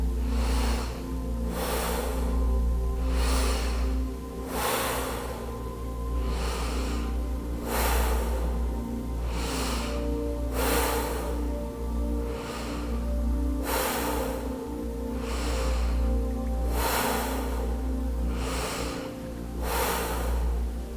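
Deep diaphragmatic breathing during a Wim Hof exercise comes as slow, loud, rhythmic breaths, about seven full cycles of inhaling and exhaling, heard close over a low steady background hum.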